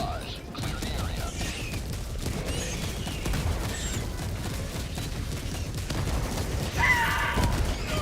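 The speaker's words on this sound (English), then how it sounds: "Firing orbital barrage." Dense rumbling fusillade of orbital barrage explosions in Helldivers 2, continuous booms and crackle throughout with brief radio-style voice chatter over the battle noise.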